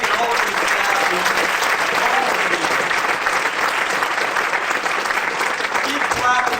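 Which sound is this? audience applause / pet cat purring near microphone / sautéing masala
audience applause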